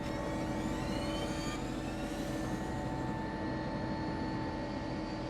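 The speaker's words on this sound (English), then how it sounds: "I can hear another helicopter" Helicopter in War Thunder simulator mode, a steady droning engine and rotor hum holding at constant volume throughout, with no talking.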